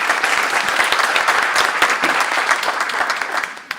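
Lecture audience applause welcoming a speaker: dense, close clapping from many hands fills the room continuously, then thins and fades out near the end.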